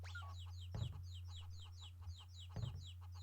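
Chickens in the video game Chulip cluck and chirp in a quick repeating pattern, a steady electronic hum underneath and two louder bursts breaking in partway through.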